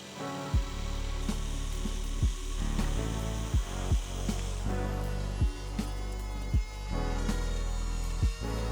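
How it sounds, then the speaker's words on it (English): A router fitted with a circle jig and a jigsaw cut rounded corners into a wooden tabletop, giving a steady loud whine broken by sharp thumps and clacks at irregular intervals. "using the circle jig on my router and a jigsaw to make those rounded corners"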